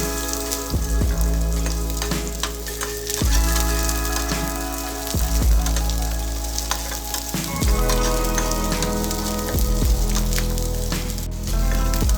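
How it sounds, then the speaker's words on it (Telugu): Sliced onions sizzle steadily in hot oil in a pan for a masala brinjal curry, a continuous close frying crackle with occasional stirring scrapes, and faint tonal background sound underneath. "ఆయిల్ వేడైన తర్వాత ఉల్లిపాయలు వేయించుకోవాలి."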